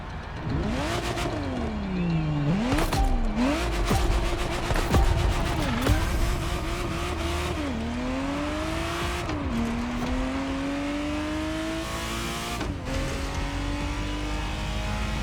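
Ferrari Testarossa engine in The Crew Motorfest racing game, loud sustained revving with repeated rising pitch sweeps as gears shift, brief clicks and bursts scattered throughout, no talk.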